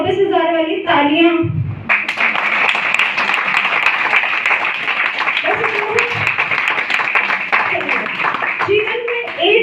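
Audience applause at a business motivation seminar, a dense sustained round of clapping that follows a brief spoken phrase and runs to the end.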